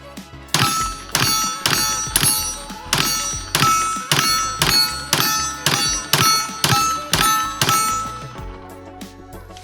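A Springfield Armory Echelon 4.0 C pistol with a red dot sight fires a full magazine: about a dozen sharp, loud reports at a steady pace of roughly one per second, each ringing briefly, followed by quiet.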